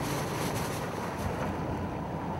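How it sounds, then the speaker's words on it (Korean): Strong wind buffeting a fishing boat at sea off Jeju during a yellowtail amberjack trip, a constant loud roar of gusts and wind noise on the microphone with washing water beneath, no voices. "이거 너무 바람 불어서 상황이 굉장히 안 좋네요"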